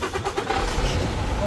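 A truck with an inline engine rated around 450 horsepower is started and revved up close, a short burst of rough low rumbling with a few quick pulses, no speech.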